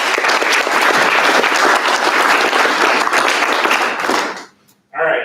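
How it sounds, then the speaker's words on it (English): Members at an amateur radio club meeting give a loud burst of applause, many hands clapping densely for about four seconds before it cuts off, followed by a voice beginning to speak. "Clap, clap."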